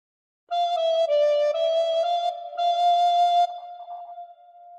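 A recorder plays a short phrase of The Star Spangled Banner, a few clear breathy sustained notes in sequence with a brief gap mid-phrase, the last note held and fading; solo and close.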